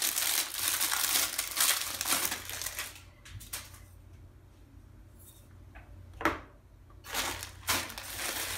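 A plastic bag crinkles and rustles up close while an exercise stability ball and its accessories are unboxed, with loud crumpling bursts at the start, a quieter stretch with scattered handling crackles, then more crinkling.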